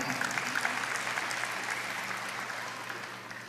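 A congregation at a Bethany church service in Indonesia applauds with a steady, soft wash of clapping that continues throughout and slowly tapers off, with no clear speech.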